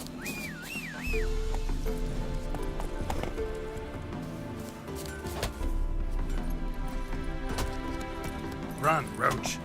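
Roach the horse gallops in The Witcher 3: Wild Hunt – Blood and Wine with rhythmic hoof clip-clops over game music, plus a whistle-like tone early on and a brief spoken line in the middle.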